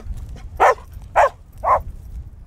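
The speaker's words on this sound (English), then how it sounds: "He's called Kane, he's a border collie, and he's 4 years old" Three sharp barks from a four-year-old border collie, close and loud, evenly spaced over a quiet outdoor background at night.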